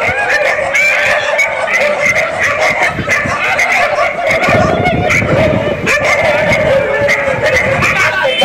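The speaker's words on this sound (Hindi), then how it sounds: "देखो सुर क्या मिल रहा है कुत्तों के साथ।" Dogs howl and yip along to a tune, a continuous dense chorus of voices with music behind them, loud and close throughout.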